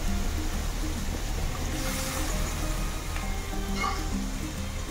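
Chhatu mushroom masala sizzles and fries in a pan after water is added over a slow flame, a steady, close, moderately quiet hiss with occasional stirring scrapes and no talk.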